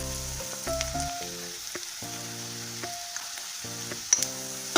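Ginger garlic paste fries in a pan with a soft, steady sizzle under a prominent background of sustained musical tones, with a few sharp clicks near the end.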